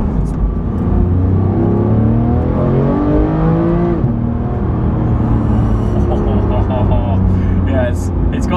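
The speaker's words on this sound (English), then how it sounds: "It still sounds like a Porsche, like a proper GT Porsche." A Porsche 991 GT3 engine holds a loud, continuous rev with rising and falling tone, close by, and a brief shift in pitch midway.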